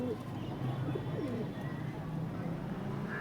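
Pigeons kept for sale coo in low, repeated murmurs beneath a steady background hum, with occasional brief chirps scattered through.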